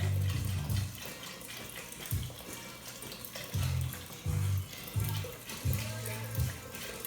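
Vegetable broth dumped from a 4-cup measure into an Instant Pot, giving repeated short sloshing pours and splashes in bursts, close and moderately loud, with no talking.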